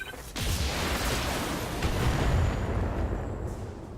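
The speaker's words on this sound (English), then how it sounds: "Particle cannon missed, unfortunately." A heavy, sustained blast of noise from a particle cannon firing in the BattleTech video game rumbles loudly for several seconds before tapering off.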